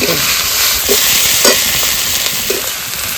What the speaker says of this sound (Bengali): মাছ ভাজা তেলে ফোড়ন দিয়ে দেবো একটা তেজপাতা একটা শুকনো লঙ্কা গোটা গরম মশলা